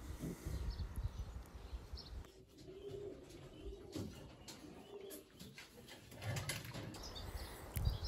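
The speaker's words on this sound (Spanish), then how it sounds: "Aquí podéis ver una paloma chocolate, tabaco, como queréis llamarle." Pigeons of the Valenciano Antiguo breed in a breeding loft, with soft cooing and bird calls plus a few wing flaps over steady background noise, no talking.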